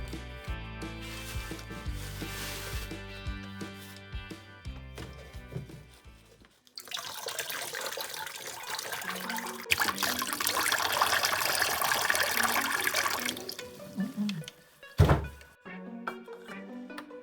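Liquid drains and sloshes out of the cells of a dead car battery, a continuous splashing pour of moderate loudness after a stretch of other noise, ending with a thunk.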